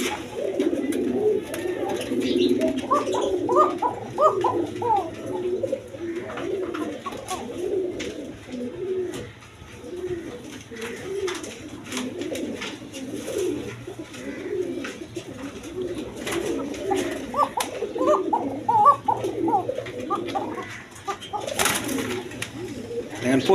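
Domestic pigeons coo repeatedly at a market stall in Bangladesh, soft throaty calls overlapping in steady clusters close by, with a few sharper chirps and a low constant hum underneath.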